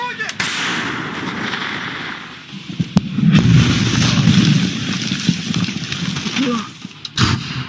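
An artillery unit fires on trenches in the Ukraine war: sharp cracks followed by a long rumbling roar of blasts and debris, loud and close, with a final heavy report near the end.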